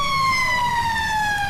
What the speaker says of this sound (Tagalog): Tapay nga agsasaruno dagiti bumbero a lumabas.